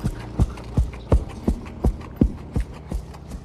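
Hooves of a ridden horse clip-clop in a steady, close, even rhythm of about nine strikes, heard alone on an outdoor trail in the Navajo Nation, Arizona.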